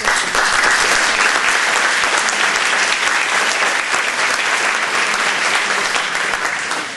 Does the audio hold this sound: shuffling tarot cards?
no